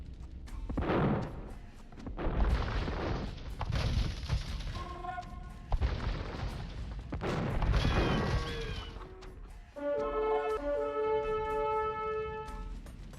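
Bombard cannons fire in an Age of Empires II match, with several heavy booms and crashes spread through the battle. They come amid busy game sound effects and short musical tones, and no one talks.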